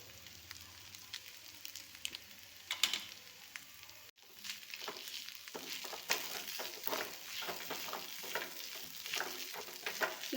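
A spoon stirs chicken masala, pepper powder and garam masala into chicken in a hot pan, giving a steady sizzle and fry with scraping strokes. The sound is soft and close, and it gets denser after a brief break.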